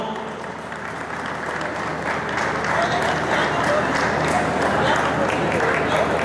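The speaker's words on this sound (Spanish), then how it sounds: "Fuerte el aplauso." Crowd applause at a cattle show champions' parade during Expo Santa Rita 2018, a steady dense clapping that holds loud across the whole stretch, with announcer talk mixed in beneath.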